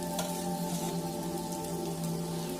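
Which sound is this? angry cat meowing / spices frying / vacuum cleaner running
spices frying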